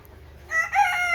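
Barred Pekin bantam rooster from show-bred bantam stock crowing once, close and loud, a short strained call breaking in sharply after a brief quiet lead-in.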